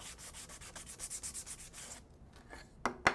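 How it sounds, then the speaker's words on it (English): Medium grit sandpaper rubs over chalk-painted furniture in rapid back-and-forth swipes, close and rhythmic, then stops, followed by a couple of sharp knocks near the end. "I did what, maybe 5 swipes of the sandpaper, and it breaks it down to the wood"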